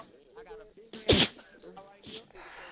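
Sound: sneeze

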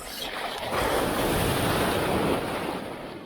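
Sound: ocean waves

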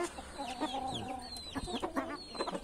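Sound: chickens clucking

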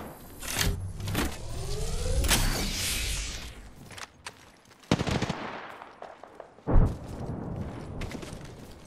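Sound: gunfire in the video game Apex Legends

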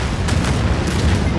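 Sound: missile barrage explosions in video game Anno 2205

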